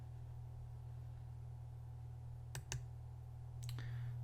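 A few crisp computer mouse clicks, a pair close together then another pair a second later, faint and near over a steady low electrical hum.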